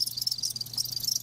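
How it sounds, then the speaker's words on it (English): Crickets chirp in a steady, fast high-pitched trill that carries on unbroken, faint and alone with no voices present. "Crickets do chirp faster when it's warm."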